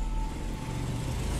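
Steady road traffic noise, a continuous low rumble of passing cars and engines that stays at an even, moderately loud level throughout with no pauses or voices.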